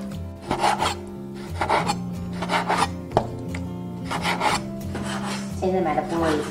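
A knife chops pineapple into small pieces on a cutting board, giving a series of crisp, irregular cuts over steady background music.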